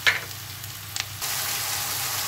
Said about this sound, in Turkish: Mantarlarımı ilave ediyorum. Biraz da bunu pişireceğim.